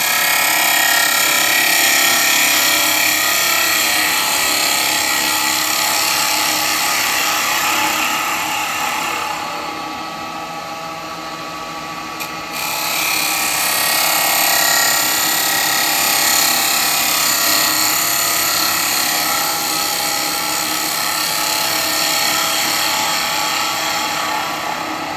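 A woodturning lathe spins a piece of elm burr while a carbide chisel cuts it, giving a loud continuous rough hiss and whir that dips briefly in the middle, then resumes at full strength with no talk.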